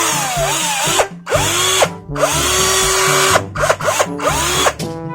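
A Black and Decker cordless drill with a repaired battery, upgraded from 12 to 16 volts, whirs loudly in several short bursts, its motor pitch rising as it spins up and falling away as each burst stops.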